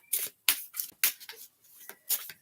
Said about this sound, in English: give these cards a little shuffle